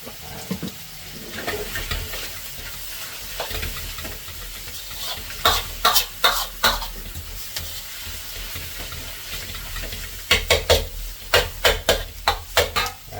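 Vegetables frying in oil in a pan, with a steady sizzle running throughout and sharper clusters of stirring or scraping strokes near the middle and end; no one speaks.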